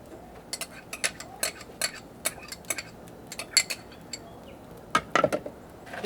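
Chopped butter crackers and butter stirred in a bowl for an asparagus casserole, a quiet series of irregular clinks and scrapes of a utensil against the dish, close by with no talking.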